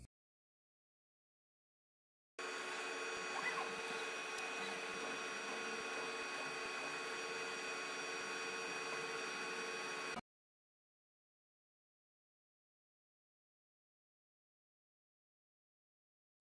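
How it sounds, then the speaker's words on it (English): xTOOL P2 55W desktop laser engraver moving its laser head to mark a work area, a steady mechanical whir with tonal motor hum that runs for about eight seconds and then stops abruptly, with silence on either side. "using the directional buttons to move the laser pointer over these two points on the workpiece"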